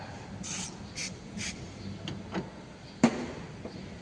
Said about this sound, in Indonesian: Lalu semprot menggunakan brake cleaner